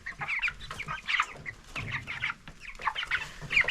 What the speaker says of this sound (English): Birds are eating.